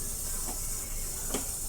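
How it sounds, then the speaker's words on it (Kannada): A steady close sizzle of food frying in a pan, a continuous bright hiss with faint crackles and no talking. "ನೋಡಿ ಈ ರೀತಿ 1-2 ನಿಮಿಷ ಫ್ರೈ ಮಾಡ್ಕೊಳ್ಳಿ."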